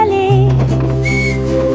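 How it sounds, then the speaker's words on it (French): A train whistle sounds in a cheerful children's song, with a short bright whistle tone over sustained musical notes. "Le sifflet joue une mélodie joyeuse."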